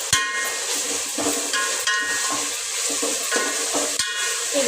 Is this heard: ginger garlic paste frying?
yes